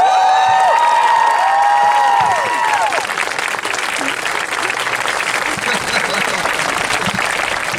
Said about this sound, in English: if I hear applause like this